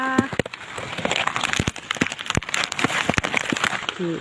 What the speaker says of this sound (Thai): ฝนตกฝนตกแล้วพี่น้องจ้า